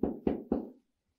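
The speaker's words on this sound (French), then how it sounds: "Il tape à sa porte de sa maison." Someone knocks on the door of a house: three firm, evenly spaced raps, close and distinct, followed by silence.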